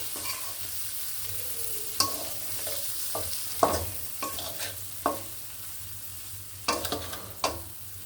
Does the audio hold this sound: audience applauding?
no